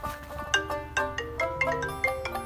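A mobile phone ringtone plays a bright, repeating melodic pattern of evenly spaced notes, clear and close with nothing else over it.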